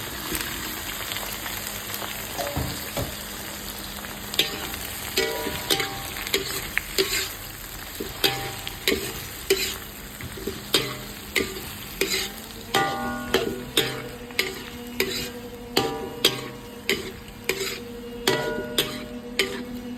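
Chili peppers fry and sizzle in a pan with a steady crackle, while a utensil scrapes and stirs in repeated close strokes throughout.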